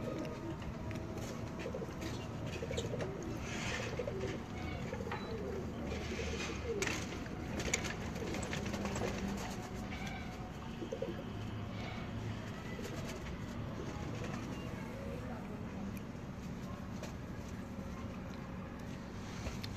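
Pigeons coo softly and continuously at a distance amid a dense, noisy background hum, with faint murmurs of people now and then and no single sound standing out.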